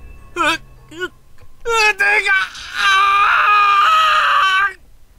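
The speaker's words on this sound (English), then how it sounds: "He's got some pretty nice sounding screams too." A character in the horror game Corpse Party: Book of Shadows lets out two short, sharp cries, then a long, strained, wavering scream that rises and sustains for several seconds before cutting off.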